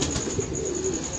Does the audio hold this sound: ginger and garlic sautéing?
no